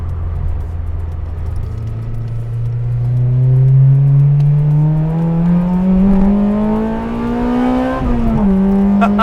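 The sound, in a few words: Honda Integra Type R DC5 with Skunk2 exhaust accelerating in 6th gear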